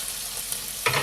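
Dried red chillies sautéing in oil in a pan, a brief soft sizzle and stirring scrape that ends in a louder clatter, close and without speech.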